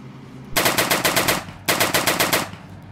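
MP-18 World War I era submachine gun firing in the Easy Red video game: two loud, close bursts of roughly six and seven rapid shots, separated by a brief pause.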